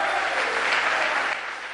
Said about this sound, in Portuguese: Vamos aplaudir o regente, vamos lá